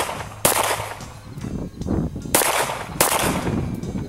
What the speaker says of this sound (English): first pulling the slide back for a chambering